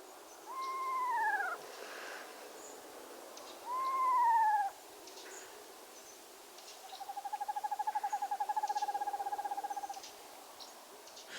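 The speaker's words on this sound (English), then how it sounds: "A cold dawn, and an eastern screech-owl whinnies from the cottonwoods." An eastern screech-owl whinnies at a cold dawn from cottonwoods beside a brushy field, giving two clear descending whinnies and then a long, even trill, each call rising alone from quiet background.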